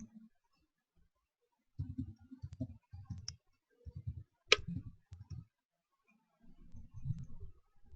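A computer mouse clicks in sharp, scattered taps, some in quick pairs, close and quiet, amid soft low thumps and desk handling noise.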